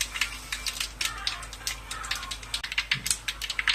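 Mustard seeds spluttering in hot sesame oil for mango pickle: rapid, irregular popping crackles burst in quick clusters throughout, close and fairly crisp over a low steady background hum.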